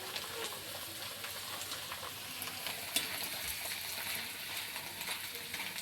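Flattened rice (poha) dropped into a hot pan gives a steady, moderately soft sizzle and crackle. A few louder ticks and stirring scrapes come through, and no one speaks.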